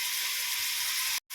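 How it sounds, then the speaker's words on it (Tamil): Onions frying in hot oil for chicken biryani give a steady, bright sizzle close up, unbroken for over a second before a brief cut, then resuming. "கோல்டன் கலர் வர வரைக்கும் நம்ம வெங்காயத்தை வதக்கிக்கலாம்."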